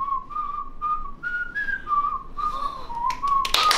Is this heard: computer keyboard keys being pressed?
no